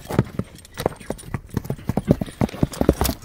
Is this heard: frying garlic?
no